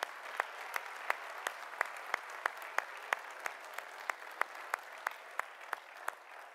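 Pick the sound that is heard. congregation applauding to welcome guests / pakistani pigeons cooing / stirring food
congregation applauding to welcome guests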